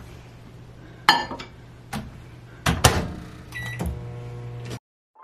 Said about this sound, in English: I'm gonna pop it in the microwave for 3 minutes.